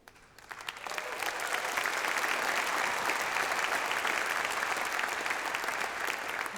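An audience at the 2022 APRA Music Awards ceremony in Australia breaks into applause, swelling within the first second into dense, steady clapping that holds at an even level throughout.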